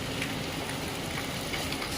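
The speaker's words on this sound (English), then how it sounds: "there is heavy rain in my locality" Heavy rain falling in a residential neighbourhood, a dense, even hiss of drops spattering on surfaces, steady and continuous with no voices.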